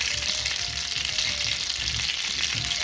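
Oil and a little butter sizzle loudly and evenly on a hot tawa before beef botti goes in, a dense unbroken frying hiss with no talking.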